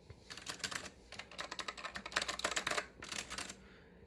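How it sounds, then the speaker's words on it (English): Fast typing on two vintage mechanical keyboards, a Data General board with Acer semi-mechanical switches and an AK1 with clicky white Alps switches. Dense clacking keystrokes come in quick bursts with brief pauses, close up and alone. "Very quick and shitty sound comparison from the back rooms of this Data General with Acer Semi-Mechanicals and this AK1 with Clicky White Alps."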